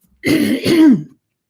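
A single close, loud throat-clearing cough in two rough bursts, then silence.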